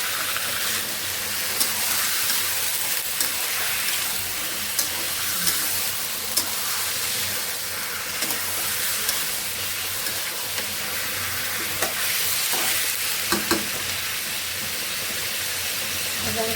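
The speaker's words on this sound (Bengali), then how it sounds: "কপিটা ভেজে নেব" Cauliflower frying in mustard oil with onion, turmeric and cardamom, a steady hissing sizzle with scattered clinks of stirring, close and continuous over a long stretch.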